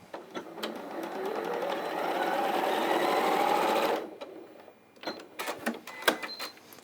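A sewing machine stitches a quarter-inch seam in a single steady burst that builds and runs a few seconds, then halts, leaving scattered clicks and fabric handling.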